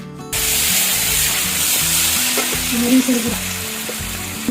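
Garlic paste, bay leaf, cardamom and salt stirred in hot mustard oil for mango pickle give a loud, continuous close-up sizzle with occasional spatula scrapes.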